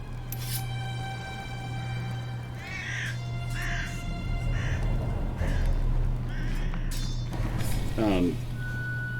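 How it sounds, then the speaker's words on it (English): Crows caw several times in The Witcher Enhanced Edition game, over a steady low ambient hum, with a person talking throughout. "Oh, birds! Birds for scale!"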